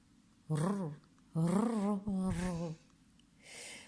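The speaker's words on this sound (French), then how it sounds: "un chat noir et descendit de l'arbre en ronronnant" A black cat makes three drawn-out, close vocal calls in quick succession, followed by a softer breathy sound, with no talk.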